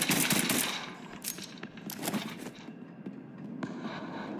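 Rapid bursts of gunfire from the noir comic-book shooter video game Liberated crack loudly and repeatedly, broken by short pauses and a few sharp single shots.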